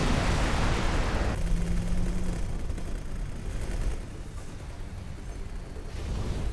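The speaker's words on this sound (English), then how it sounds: "There's the graviton turrets hitting the Hong, but we are maintaining." Graviton turrets fire on a ship during a space battle in X4: Tides of Avarice, a heavy rumbling barrage that starts loud and eruptive, then settles into a steady, muffled roar of distant impacts.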